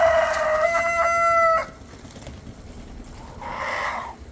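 Chickens and a rooster in a pen give a loud, close crow with clucking in the first second and a half, then quiet, then a softer burst of clucking near the end.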